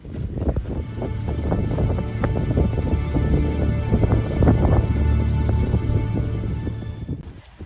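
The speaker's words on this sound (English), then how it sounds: "It is raining now." Steady rain pours at Meldon Reservoir on Dartmoor, a loud, dense patter of drops close by with gusty low rumbles, continuous throughout and without voices.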